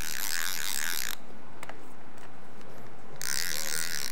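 An Abu Garcia Zenon MG-X baitcasting reel gives a brief run of close, crisp mechanical clicks, framed by bursts of loud hissing noise before and after, with no speech.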